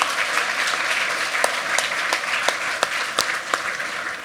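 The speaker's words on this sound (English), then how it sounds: "Let's give a big round of applause for all of the Hackaday Prize entries of 2019." An audience applauds the 2019 Hackaday Prize entries at an awards ceremony, with steady, moderately faint clapping from a crowd and a few sharper individual claps standing out.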